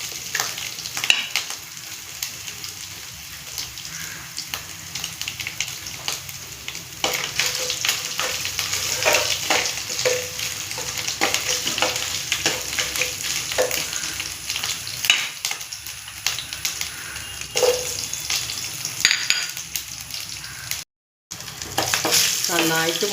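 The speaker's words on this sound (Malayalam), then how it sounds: "ഇഞ്ചി വെളുത്തുള്ളി നല്ല ഒന്ന് മൂക്കണം" Ginger and garlic fry in a pan, a steady broadband sizzle with occasional stirring scrapes running throughout, close and fairly loud, with a brief dropout near the end and no talking.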